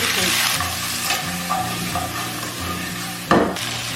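Fish heads and bones frying in hot oil with scallion and ginger in a wok, a steady loud sizzle with periodic scraping stir strokes and a sharp burst of crackle near the end.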